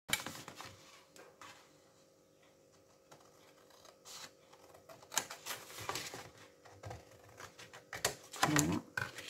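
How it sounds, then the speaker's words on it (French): Scissors snip through paper in a series of short, close crisp cuts and rustles, quiet at first and then more frequent, with faint background hum. "je prends ma paire de ciseaux,"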